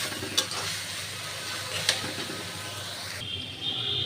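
Dried fish fries and sizzles in a pan while being stirred, a steady close hiss broken by two sharp scraping clicks of the utensil, with no talking.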